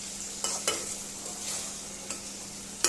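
Bean seeds and dried fish fry steadily in a pan with a constant sizzle, broken by a few sharp scrapes and taps of a stirring utensil against the pan.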